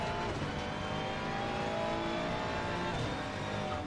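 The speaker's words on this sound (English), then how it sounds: "I am in the Ferrari because I do enjoy the Ferrari 296" A Ferrari 296 race car engine on the Nordschleife in Assetto Corsa Competizione, a sustained high-revving buzz held steady with a slight pitch shift, fairly quiet and with nothing else over it.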